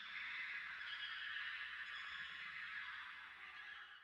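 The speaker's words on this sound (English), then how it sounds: "Some of the sounds are very reminiscent of animal sounds," Eerie bird-like calls within the dark ambient soundtrack of the horror game Fear & Hunger 2: Termina, a steady, dense wash of honking, fowl-like tones held at constant loudness throughout.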